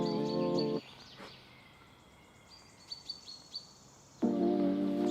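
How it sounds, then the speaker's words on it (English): Birds sing in a forest in Vilnius in clear bursts, a loud warbling phrase at the start and end with softer chirps between, quiet background otherwise. "The forest is very peaceful, you can just hear the sound of the birds."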